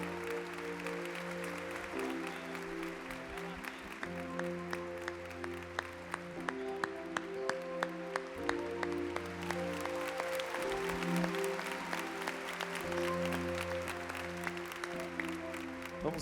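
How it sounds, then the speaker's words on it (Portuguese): Congregation applauding during a Catholic church service, sharp claps in a regular rhythm over sustained organ-like music, moderately quiet and reverberant, no talk. "Podemos aplaudir."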